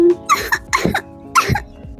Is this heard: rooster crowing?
no